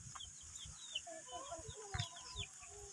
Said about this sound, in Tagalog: May kasama pa kong manok.